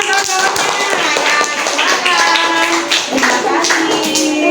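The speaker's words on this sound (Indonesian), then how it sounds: "kasih tepuk tangan kawan-kawannya" Classmates in a school classroom clap their hands together, a loud, close, continuous patter of claps with some voices mixed in.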